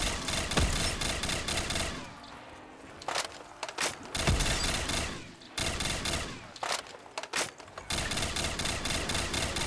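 Rapid bursts of automatic gunfire in a video game, several loud sustained volleys separated by short pauses, close and dominant, with no speech over them.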